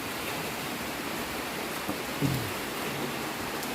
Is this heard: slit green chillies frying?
no